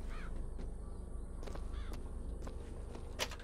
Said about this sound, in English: Press left trigger to summon murderous crows to stun and damage your enemies